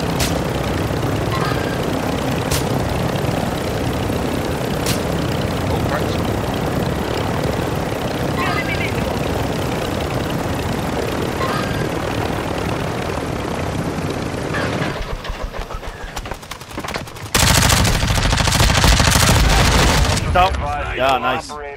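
A helicopter in the game DMZ thrums and whirs loudly over gunfire and game noise, with players talking throughout; the rotor sound drops away partway and a louder burst of noise follows near the end.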